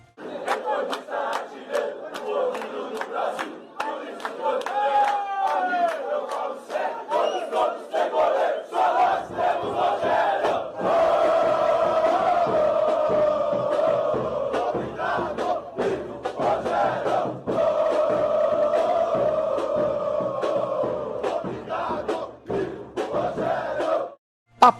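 Massed São Paulo supporters chant a song for Rogério Ceni, a loud sustained stadium crowd singing in unison with rhythmic claps and shouts, swelling and continuing for many seconds.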